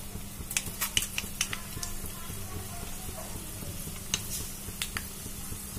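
Mustard seeds, chana dal and urad dal with dried red chillies frying in hot oil, a soft steady sizzle dotted with small popping crackles and a few clinks of a stirring spoon against the pan.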